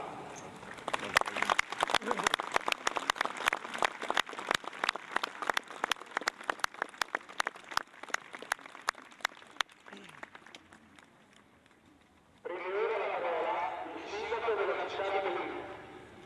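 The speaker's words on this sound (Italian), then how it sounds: "Diamo il pubblico un caloroso applauso." Applause from the audience at an Alpine regiment hat-presentation ceremony, a dense patter of clapping that thins and fades out, followed by someone speaking into a microphone.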